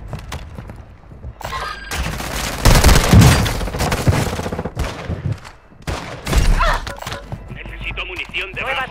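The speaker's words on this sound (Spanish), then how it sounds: "¡Disparan!" Gunfire in Call of Duty Warzone played on PS5 comes in loud, rapid bursts of automatic shots with bangs and booms, mixed with game voice lines and other effects.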